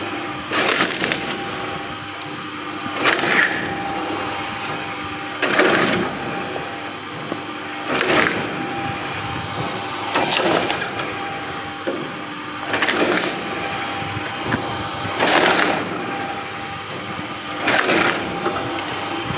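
A coconut cutting machine runs with a steady mechanical whir, broken every two to three seconds by loud, close cracking bursts as each coconut is split, in a regular repeating rhythm without speech.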